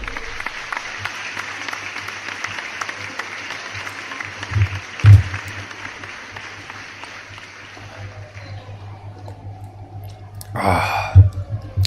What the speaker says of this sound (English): Let me give you an applause.